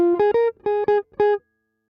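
Jazz guitar riff in the swing style, with a minor third sliding up to a major third as a grace note: a few clean, close picked notes in a short phrase, played alone.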